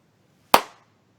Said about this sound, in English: Here's a clap.